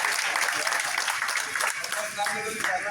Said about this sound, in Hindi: सिंह जी, जोरदार ताली से स्वागत करें।